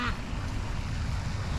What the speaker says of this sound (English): I know there's ducks.